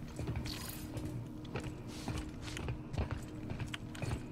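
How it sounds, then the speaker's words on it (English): A mechanical printer mechanism whirs and clicks inside The Callisto Protocol video game, with a steady churning drone and irregular ratcheting ticks and creaks repeating throughout, fairly quiet and with no voices. "CPU printer noise."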